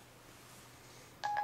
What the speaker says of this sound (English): I want to make a phone call to a number not in my phone book.